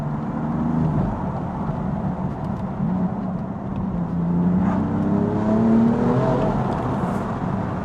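BMW M4 Competition engine droning steadily from inside the cabin while driving, a low, continuous rumble with rising and falling pitch as it accelerates and shifts, fairly loud with no talking.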